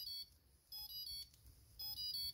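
Faint, repeated high electronic tones come from an iFlight SucceX 4-in-1 ESC connected to a configurator, sounding as short beeping phrases over a quiet background.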